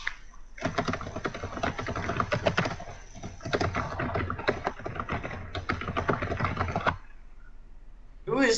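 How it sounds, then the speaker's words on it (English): Rapid, dense clacking of a computer keyboard typed at high speed, continuous bursts for several seconds close to the mic, with faint voices in the background of a live Nintendo E3 2016 stream. "Who is typing like a maniac?"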